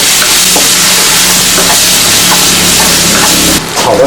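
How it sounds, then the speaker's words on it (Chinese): Ginger, garlic and chili sauce stir-fry in hot oil in a wok, a loud, steady sizzle and hiss lasting throughout with faint scraping, easing briefly near the end. "锅中热油啊，姜、蒜、辣椒酱，"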